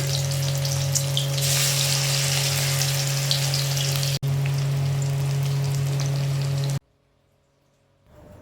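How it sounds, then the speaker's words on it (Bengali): Fish roe fritters frying in hot oil for a Bengali lunch make a loud, steady, close sizzle with a constant hiss and a faint hum, then cut off abruptly near the end, leaving near silence. "ফাইনালি মাছের ডিমের 1 প্লেট বড়া ভেজে আমি রেখে দিয়েছি"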